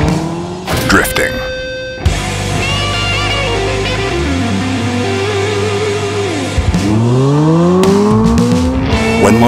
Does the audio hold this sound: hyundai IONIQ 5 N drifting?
yes